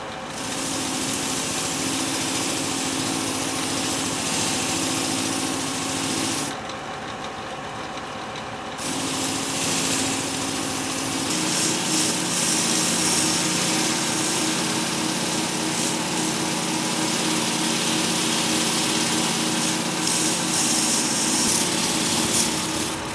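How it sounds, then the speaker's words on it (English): A wire wheel spins steadily against an old, rusty Japanese knife blade, a continuous high whirring grind that drops out briefly partway through and then resumes, loud and close with no talking. "just clean off the rust and maybe shine it up a little bit, see how it responds to the wire wheel."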